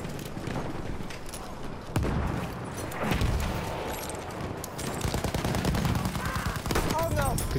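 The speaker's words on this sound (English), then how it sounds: "Good shot, Leash." M1907 rifle fire in a shooter game: rapid, cracking bursts of automatic gunfire with heavier booms, near and fairly loud, continuing under voices talking.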